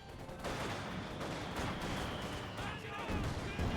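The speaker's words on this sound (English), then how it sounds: "Grenades being unleashed on the conscripts" Grenades exploding in Company of Heroes 2, a World War II strategy game, as they land on Soviet conscripts: dense, continuous bursts and crackling gunfire under a voice.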